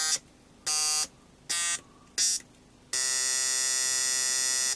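An Atari Punk Console synth built from two NE555 timers gives harsh, buzzy square-wave tones, three short bursts and then a sustained drone, loud and close with no talking.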